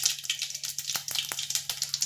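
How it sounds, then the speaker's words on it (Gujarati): Mustard seeds crackle and spit in hot oil while being tempered, a dense steady sizzle broken by sharp little pops up close. "હવે રાઈને ફૂટવા દેવાની છે"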